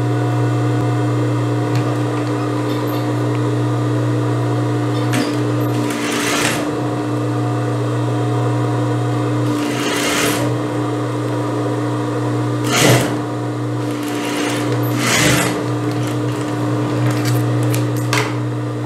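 A sewing machine stitches a blouse front onto a band with a steady close mechanical hum, broken by a few short bursts and pauses as the fabric is adjusted.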